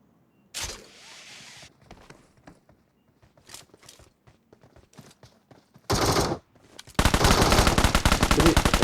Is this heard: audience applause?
no